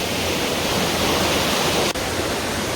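Mankayam Waterfalls at Brimore, Trivandrum, Kerala, roars in a constant, loud broadband rush heard up close, with a momentary dip near the end and no voices.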